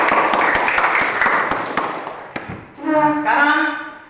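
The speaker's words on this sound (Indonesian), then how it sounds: "Ya, tepuk tangan dulu." A classroom of students claps together in a burst of applause that fades out, followed by a teacher's voice talking afterward.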